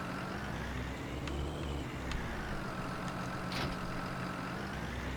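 A new farm tractor's engine runs steadily with a low, constant drone, joined by a few brief higher clanks or squeaks, fairly loud and uninterrupted throughout, with no talking.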